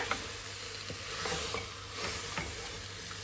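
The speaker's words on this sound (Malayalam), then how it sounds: "ഈ മസാലയിലേക്ക് നന്നായി ഈ ചിക്കനെ മിക്സ് ചെയ്ത് കൊടുക്കുക" Chicken being stirred into a spiced masala in a pressure cooker for chicken biryani, giving a steady low sizzle with scattered soft scrapes and clicks of stirring, close and fairly quiet.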